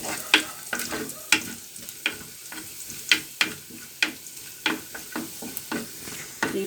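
Cinnamon bark and cloves fry in oil for a Sri Lankan egg curry while a spoon stirs them, giving a steady sizzle punctuated by regular sharp scrapes and taps against the pan about every half second.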